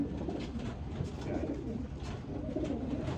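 Racing pigeons coo softly in a steady, murmuring chorus of overlapping low calls, close by and with no talking.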